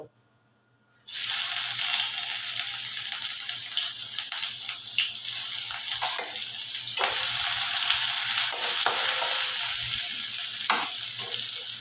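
Ginger and green chili paste hits hot oil in a pan for a paneer dish and sizzles loudly and steadily after a second of silence, with occasional stirring scrapes.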